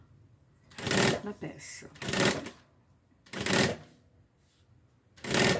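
A sewing machine stitching a seam along the edge of a suitcase-style bag, running in four short, loud bursts separated by pauses, with someone speaking briefly between runs.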